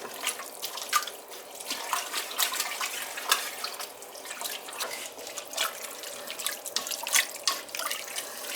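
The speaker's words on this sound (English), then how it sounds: "I gotta add some more water to it." Water runs steadily from a tap, splashing and trickling into a soup pot with irregular bright drips and spatters, close by.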